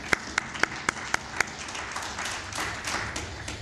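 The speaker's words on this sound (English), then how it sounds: "So let us give him a round of applause, please." Scattered applause from an audience at a qualifications authority event: six sharp, evenly spaced claps up front, then a softer spread of clapping from the room.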